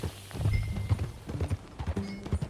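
Horse hooves clip-clop at a riding pace in Red Dead Redemption 2, a steady near rhythm of uneven hoofbeats over a low rumble, with no talk.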